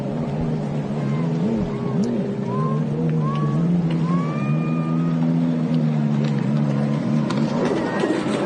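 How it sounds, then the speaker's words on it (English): GP racing jet skis fitted with Yamaha 1050 engines run in a national championship race, their engines droning loud and steady with shifting revs as they pass. "You're going to see GP skis with 1050 Yamaha engines in them first."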